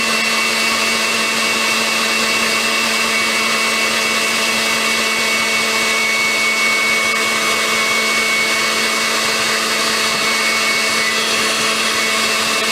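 An electric mixer whips egg whites, cream of tartar and sugar into meringue, a loud, steady, high-pitched motor whir running unbroken and close throughout.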